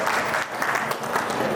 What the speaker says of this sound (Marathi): ज्या संयोजकांनी काम केलं त्यांच्यासाठी एकदा टाळ्या वाजवा